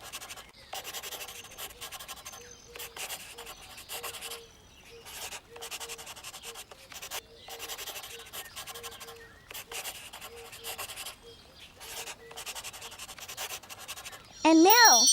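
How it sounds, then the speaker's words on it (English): A black marker outlining a drawing on paper makes soft repeated scratchy strokes in short bursts with brief pauses, fairly close and quiet, ending with a sudden louder sound. "it's time to make those outlines bold and sharp with our trusty black marker"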